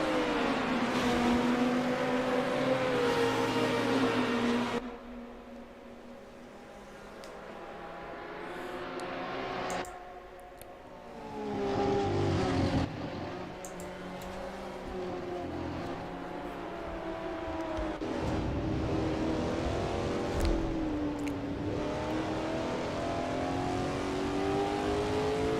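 Touring car engines drone and rev in an ATCC racing video game at Lakeside as five cars battle for third, the whine rising and falling with gear changes and dipping briefly before building again.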